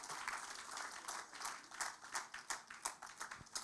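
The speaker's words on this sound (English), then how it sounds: "Another clap." An audience at a national AIDS symposium claps, a soft, fairly distant patter of applause with a ragged rhythm that swells slightly toward the end.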